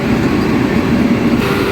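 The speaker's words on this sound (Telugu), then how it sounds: "వందే భారత్తో మన ట్రైన్కి అయితే క్రాస్ ఓవర్ పడింది ఒంగోలు" A steady, loud rumble rides along on the Amrit Bharat Express at Ongole station as a Vande Bharat train crosses it, a continuous rail roar with a slight shift in tone near the end and no speech.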